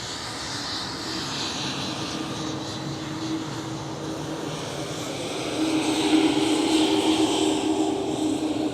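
An Embraer E2 jet at Amsterdam Schiphol gives a steady, moderately loud engine roar that swells slightly toward the end, with no talk.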